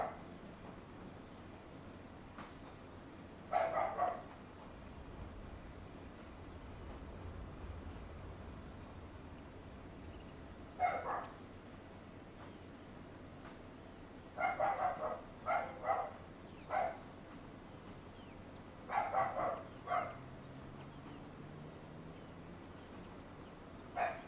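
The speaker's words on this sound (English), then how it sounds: "I better go let my dog in before he starts barking too much" A dog barking in short clusters of two or three barks, several separated bursts over a steady faint background hiss with insect-like chirping, moderately distant and fairly quiet.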